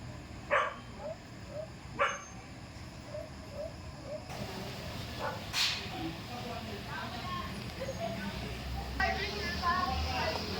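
A few sharp dog barks ring out at a distance, spaced apart, over a steady outdoor hum with faint voices in the background.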